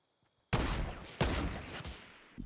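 Close, loud gunfire from a weapon in Fortnite, with two sharp shots after a moment of silence, each trailing into a rattling decay, and a last crack at the very end.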